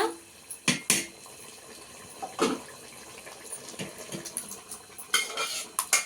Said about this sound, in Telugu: ఇప్పుడు పప్పు కలుపుకుందామండి